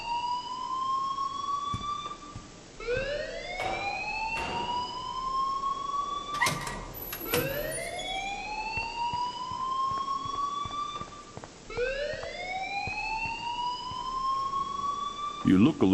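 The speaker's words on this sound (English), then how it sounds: "please turn off that alarm since that's your job" Alarm in the Life is Strange video game, a siren-like tone sweeping upward again and again in long wails, loud and continuous, with brief sharp noises between sweeps.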